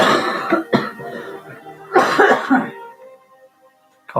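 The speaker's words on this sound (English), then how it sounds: "Coughing." Several harsh coughs in bursts, a pair early then a longer fit, ending in quiet with a final short cough.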